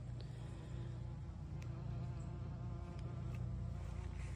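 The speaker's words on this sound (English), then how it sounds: "There's lots of bugs out here today." Insects such as bees and other pollinators buzz steadily around late-summer garden flowers, including bee balm, in a continuous close hum with no talking.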